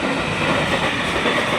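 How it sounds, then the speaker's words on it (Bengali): A train rolling past nearby, a dense continuous rumble and wheel clatter filling the whole moment, loud and steady with no voices. "আর এখানেই তো ট্রেন যাচ্ছে"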